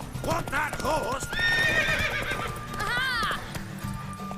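A horse neighs loudly several times over rhythmic clip-clopping hooves, with a rising, whinnying call near the end, in the video game The Witcher 3: Wild Hunt.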